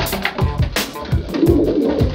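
Several pigeons coo in a breeding loft housing long-distance racing pigeons of the Brueggemann brothers' line, with repeated low rolling coos overlapping one another at close range and no talk.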